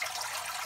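Water running steadily from a small fountain in a 40-gallon turtle tank, a continuous close hiss and trickle with no pauses and no voices.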